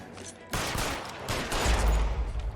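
A burst of gunfire in the video game L.A. Noire: a sharp shot followed by rapid overlapping reports and a heavier rumble, loud and close, with no speech.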